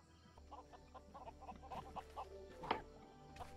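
Chickens cluck in a farmyard in the video game Lego Worlds, a run of short, soft, evenly spaced clucks over a low steady background hum, with one sharper squawk near the end.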